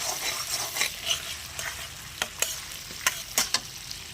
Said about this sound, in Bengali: শুকনো লঙ্কাটা পুরোপুরি ভাজবো না দিয়ে দেবো কাজু এটা সামান্য নাড়িয়ে চাড়িয়ে